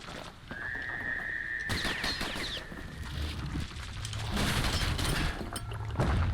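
Weapon fire from the Bastion video game: a string of sharp shots and bursts mixed with a sustained whistling tone and other game effects, steady and fairly loud, with no talking.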